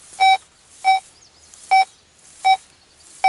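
A Minelab Go Find 60 metal detector signals a dime buried eight inches deep with five short, clear electronic beeps spaced at a slightly uneven rhythm, loud over a quiet background.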